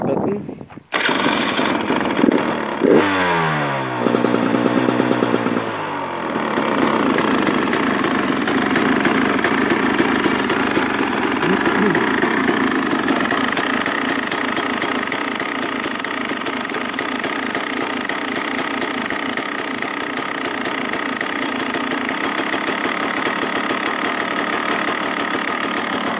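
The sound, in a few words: KTM 300EXC 2015 motorcycle engine starting and idling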